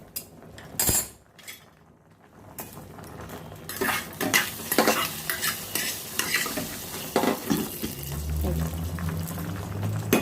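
Spices crackle and sizzle in a hot pan, with a spoon scraping and stirring and pan clatter throughout, close and moderately loud.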